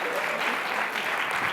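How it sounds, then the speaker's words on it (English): Audience applause at a university lecture on food waste, a dense even wash of clapping filling the short moment without a break, at steady loudness. "Yeah, big applause for Jessica."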